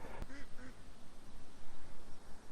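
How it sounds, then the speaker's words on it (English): Ducks quacking in a summer garden, a few faint repeated quacks in the first second over steady outdoor background noise. "There's the ducks."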